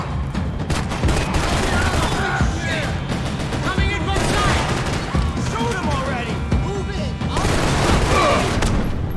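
Max Payne 3 gunfights crackle with continuous shots and heavy impacts, a dense barrage that runs throughout at close range, while voices talk and shout through the shooting.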